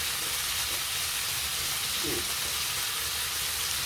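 Broccoli frying in a pan for a shrimp stir-fry makes a continuous soft sizzle and hiss, faint and even throughout.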